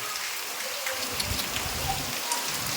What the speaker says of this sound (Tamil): சரியான மழை நண்பர்களே இங்கே பாருங்க கொட்டி தீக்குது நண்பர்களே மழை